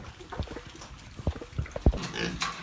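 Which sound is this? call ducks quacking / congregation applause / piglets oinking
piglets oinking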